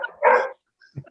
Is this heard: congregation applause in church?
no